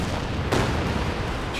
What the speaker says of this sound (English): Barrage doing well